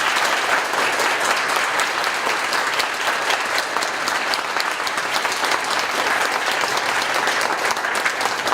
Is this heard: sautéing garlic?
no